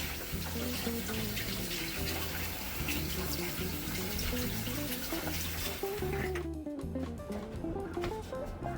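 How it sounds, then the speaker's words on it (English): Tap water runs steadily into a sink while hands are washed beneath it, a close, continuous splashing rush that shifts as the hands move, then ends abruptly. "I'm gonna wash my hands"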